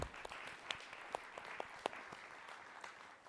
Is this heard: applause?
yes